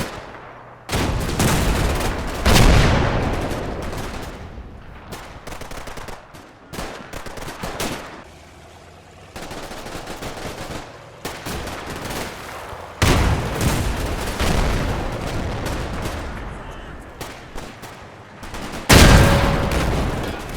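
Tank cannons fire in the World War II strategy game Combat Mission Red Thunder. Several loud, close blasts with heavy booming rumble are separated by short quieter gaps, and a final sharp shot comes near the end.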